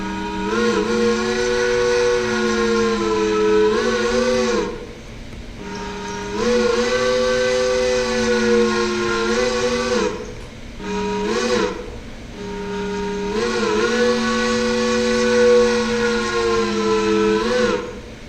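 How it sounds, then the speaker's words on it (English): A Powell three-chime steam whistle on an 0-8-0 locomotive, number 22 of the Alarka and Great Western Railroad, sounds three long loud blasts of a bright chord, each a few seconds long, with short gaps between them. "She's equipped with a Powell 3 chime whistle."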